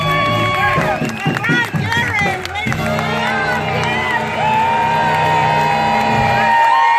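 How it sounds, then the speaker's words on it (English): Crowd on a cruise ship talent show cheering and whooping loudly over music, with shouts and a host's voice breaking through early on, then sustained tonal sounds as the noise carries on. "And the crowd goes wild!"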